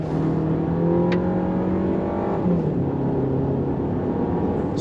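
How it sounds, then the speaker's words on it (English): 2025 Volkswagen Tiguan S accelerating onto a highway, heard from inside the cabin as a steady engine drone rising in pitch, with a gear change midway and road noise underneath. "We're gonna go on throttle here, getting out onto the highway."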